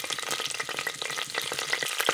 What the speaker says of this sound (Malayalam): പുരട്ടി വെച്ചിരിക്കുന്ന മത്തിയൊക്കെ കുക്കറിലോട്ട് ഇടുന്നുണ്ട്